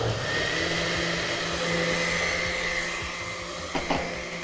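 A blender grinds ingredients with vanilla and water, a steady, loud motor whir running throughout, with a couple of faint clicks near the end.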